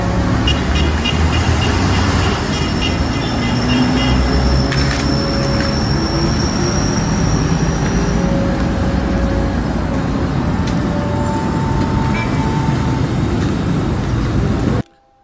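Street traffic roars steadily outside a hotel in Cairo, a dense wash of engines and rolling vehicles with scattered horn toots and occasional squeals. The noise stays constant and fairly loud throughout and cuts off abruptly at the end.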